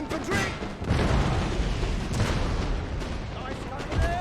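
Musket volleys and cannon booms from a Napoleonic battle in the strategy game Napoleon: Total War, with dense overlapping gunfire and rumbling blasts filling the whole moment, loud and continuous with no clear gaps.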